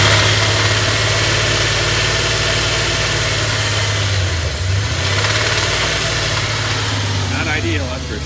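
A rare Dodge pickup truck engine idles loud and close with a steady low rumble and a faint rapid ticking from a noisy lifter, plus a brief dip in the drone midway.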